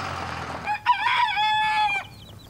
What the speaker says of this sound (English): Today, Chris is on his way to pick up the Salmon Faverolles chicks Azili's been guarding.